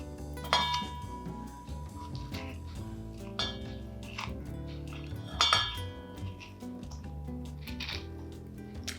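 While dolma is being prepared, a serrated metal scooper scrapes and clinks against vegetables and a bowl. The knocks and scrapes are irregular and repeated, with a few sharper clinks standing out over a busy kitchen background.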